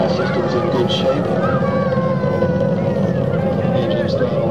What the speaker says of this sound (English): Engine's throttling down as the Atlantis prepares to maneuver through the area of maximum dynamic pressure on the vehicle